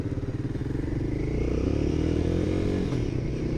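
A Royal Enfield Himalayan 450 adventure motorcycle fires up and pulls away, its single-cylinder thump pulsing at idle before settling into a steady, close engine drone.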